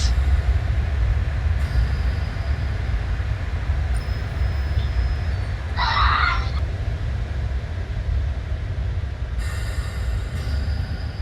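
An IET train in Train Sim World runs into Nailsea Backwell station with a steady, loud low rumble of the train in motion. A brief chime sounds partway through, and faint high whines come and go.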